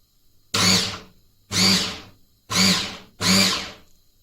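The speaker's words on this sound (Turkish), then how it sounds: "Bunu da dedim şey yapayım bir robotla çekiyorum arkadaşlarım." Food processor chopping madımak greens in four short, loud whirring bursts about a second apart, each motor spin-up fading quickly into silence.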